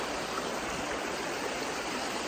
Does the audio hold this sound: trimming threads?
no